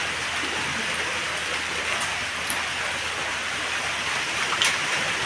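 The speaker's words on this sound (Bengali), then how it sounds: "এই দেখো বৃষ্টি কিন্তু কমছে না" Heavy rain from Cyclone Remal pours down steadily, a dense unbroken hiss close by with occasional drips and taps standing out.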